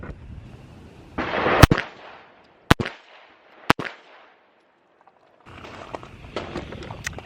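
Pistol shots fired at a target on a shooting range: three sharp, loud cracks spaced about a second apart, with a burst of rustling noise before them and movement sounds afterward.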